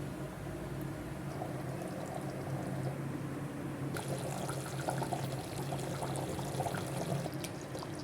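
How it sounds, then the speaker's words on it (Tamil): Water is poured in a small, steady splashing stream into a pot of chicken masala curry, continuous and close, with a faint simmer underneath. "கொஞ்சமாக தண்ணி ஊற்றி உனப்பெல்லாம் நல்லா கலந்துக்கிட்டு"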